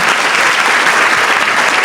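Conference audience clapping steadily at close range, a continuous loud wash of many hands with no voices standing out.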